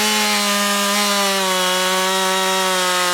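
A loud Harbor Freight chainsaw engine drones steadily at a constant pitch, cutting through wood without pause.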